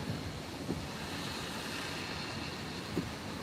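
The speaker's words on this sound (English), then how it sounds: "starting to get more consistent tropical storm gusts" Hurricane Ida's tropical storm wind gusts in Louisiana roar steadily against the microphone, a dense, constant rush with brief stronger buffets and no voices.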